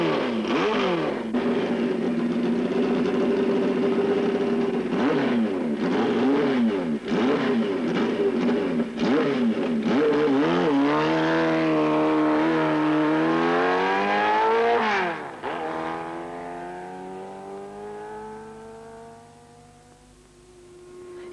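A 1973 Kawasaki Z1 motorcycle runs wide open around the two-mile Daytona oval, its loud engine whine rising and falling through gear changes before fading into the distance.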